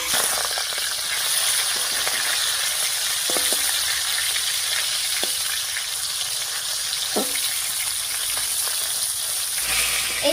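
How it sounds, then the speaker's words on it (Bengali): Pieces of shol fish fry in hot oil with a steady, close crackling sizzle and occasional sharp pops and clicks of the pan throughout. "একইভাবে সবগুলো মাছ ভেজে নিচ্ছি"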